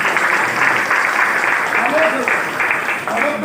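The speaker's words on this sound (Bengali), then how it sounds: "একবার জোরদার হাততালি হয়ে যায়" Audience applause at a large motivational business seminar, a steady dense wash of clapping throughout, with some voices and whistles rising over it near the middle and end.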